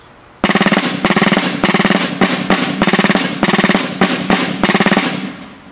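A snare drum plays a crisp military call to attention alone, loud close strokes in short grouped bursts with brief pauses between, building a regular marching pattern.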